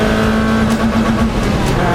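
A Lotus Elise engine held at high revs nearby on the Silverstone circuit, stuttering in quick pulses as a faulty rev limiter repeatedly cuts in early, around 6,500 rpm instead of 7,200.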